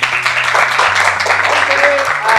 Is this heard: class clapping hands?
yes